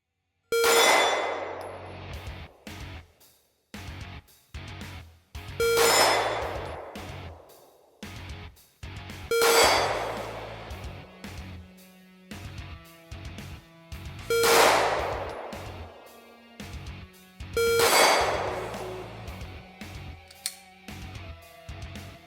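Live-fire gunshots ring out from a handgun fitted with a Mantis X10 training sensor, five sharp, loud reports spaced a few seconds apart, each with a ringing tail, over quieter handling noises between shots.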